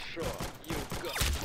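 Rapid gunfire bursts from the Roblox game Arsenal pop in quick succession, mixed with a person talking over the shots.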